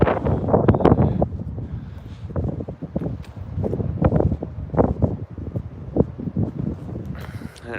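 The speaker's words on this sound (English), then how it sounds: "And it's windy." Gusty wind buffets the microphone on Calton Hill in Edinburgh's city centre, a steady, loud rumble with rustling throughout, while people talk over it.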